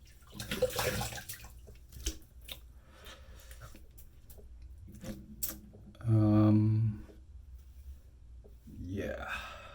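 Water runs briefly from a tap to rinse off a straight razor shave, a short steady gush partway through, surrounded by quiet bathroom handling sounds and soft speech.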